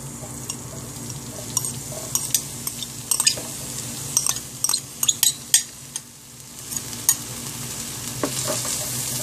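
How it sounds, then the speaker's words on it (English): Seasonings sautéing in oil in a pan for Jamaican callaloo with smoked red herring, with a steady sizzle under repeated sharp scrapes and clinks of a spoon stirring against the pan. "allow it to saute so that the flavors can come through real good"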